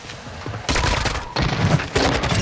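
Sniper fire in the Battlefield video game, heard as several loud, sharp gunshot blasts at close range, each bursting suddenly and ringing on.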